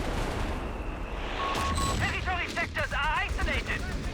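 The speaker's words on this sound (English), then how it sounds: "Is that just the auto attack of the Cannoni?" A Cannone unit's auto attack firing in the game Company of Heroes 3: repeated sharp cannon and gunfire bursts amid battlefield noise, with warbling whistles and a voice talking over the action.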